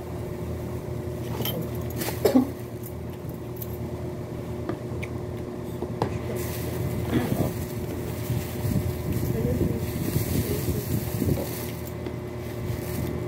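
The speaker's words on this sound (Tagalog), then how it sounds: "mahangin." Gusty wind rumbling against the microphone outdoors, with scattered voices and a distant engine drone underneath.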